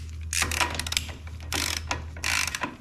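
A ratchet clicks in three quick bursts while a motorcycle axle nut is tightened during chain adjustment, the pawl rattling close and clear over a low steady hum.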